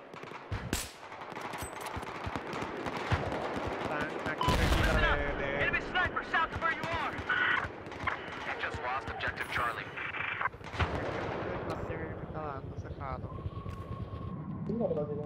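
Battlefield 4 gunfire with .50 cal shots, dense bursts of rapid shooting and explosions running throughout at moderate loudness, while a person talks over the game action.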